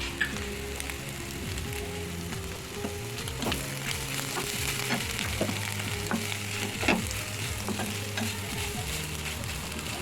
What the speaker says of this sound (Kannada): ಇವಾಗ ಆಲ್ಮೋಸ್ಟ್ ಎಲ್ಲ ಫ್ರೈ ಆಗಿದೆ. ಸ್ವಲ್ಪ ಕೈ ಆಡ್ತೀನಿ.